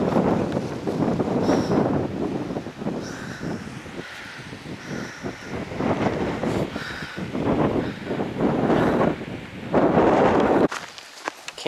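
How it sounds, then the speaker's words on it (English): Wind blows outdoors in strong, rushing gusts that buffet the microphone, swelling and fading over several seconds, with crows cawing intermittently in the background before the gusts briefly drop away near the end. "Ooh, wind."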